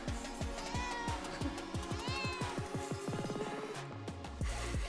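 A cat meows repeatedly in drawn-out, plaintive cries at close range, with low rhythmic thumping underneath.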